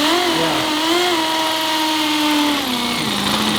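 A wood drill bit grinds into a concrete block in a basement, producing a loud, steady high-pitched whine with a slowly falling pitch throughout, close by and uninterrupted.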